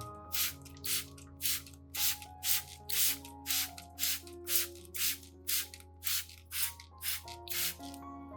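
A spray bottle misting liquid onto the roots of an orchid, about fifteen short, even hissing bursts in a steady rhythm, close by, over soft background music.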